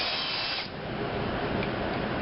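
A power drill bores a pilot hole for screws in the wood of a birdhouse. The whine is short, steady and close, dips briefly as the bit bites, then holds its pitch to the end, with no talk.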